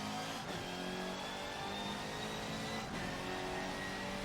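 Car engines in a PSVR 2 racing video game hum and rev steadily under a rising transmission whine, holding at a continuous loud level throughout with no talking.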